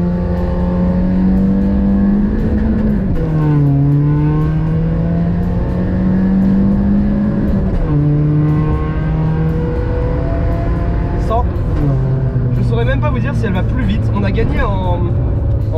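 A Renault Clio with its final exhaust silencer removed roars loudly and climbs through short gears, revving hard with a rasping, unmuffled exhaust note and crackles between shifts.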